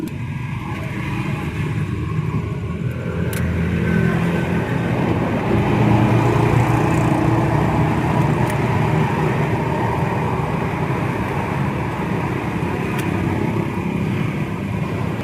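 An EFI car engine idles steadily after a tappet adjustment, a continuous low rumble with a mechanical chatter, close and unchanging in level across the whole stretch with no talk.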